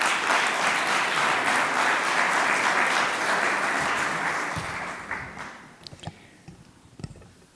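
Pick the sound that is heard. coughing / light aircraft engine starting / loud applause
loud applause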